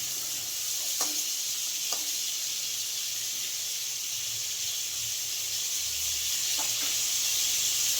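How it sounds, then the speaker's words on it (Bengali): Pointed gourd (potol) pieces fry in oil in a home kitchen with a steady, moderate crackling sizzle and a few faint utensil taps, and nobody speaks. "পটলটা ভাজা হোক, তারপর আসছি।"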